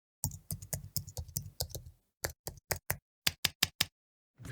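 Keyboard typing Foley: rapid, close keystroke clicks in an irregular burst, a brief pause, then sparser separate taps, crisp and isolated against silence.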